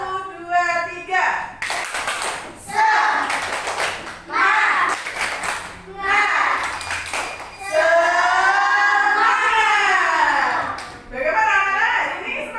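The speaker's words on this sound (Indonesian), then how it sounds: "Kita tepuk semangat dulu ya." A class of children claps out a rhythmic spirit-clap chant in a primary school lesson, quick bursts of hand claps mixed with loud young voices chanting and a teacher speaking between rounds.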